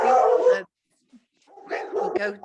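A dog barks somewhere in the background of a council committee meeting: a short burst of sound, a pause, then a few more barks, moderately loud and heard without speech over them.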